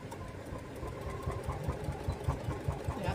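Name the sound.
sewing machine stitching a table runner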